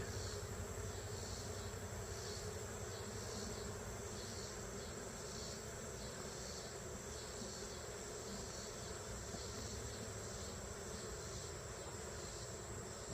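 Honeybees buzzing around their hives during a hive check and feeding, a steady dense hum from many bees close by, continuous and fairly faint, with no talking.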